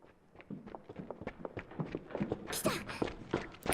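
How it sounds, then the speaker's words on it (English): Footsteps coming up stairs in Steins;Gate 0: a quick, uneven series of soft thumping steps that grows a little louder toward the end, with a brief rustle near the close. "The sounds of footsteps coming up the stairs."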